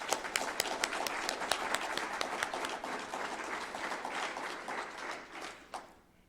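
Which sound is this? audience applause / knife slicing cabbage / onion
audience applause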